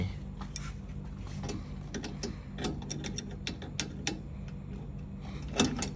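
A nut is loosened on the steering of an electric scooter, giving close, irregular metallic ratcheting clicks over a steady low background hum, with no talking.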